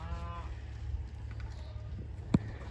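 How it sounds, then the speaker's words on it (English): Goats calling on a farm, with a drawn-out bleat near the start and low animal noises over a steady rumbling background, along with a sharp knock near the end. "They're just loud. Hey, buddies. Hey, uni goats."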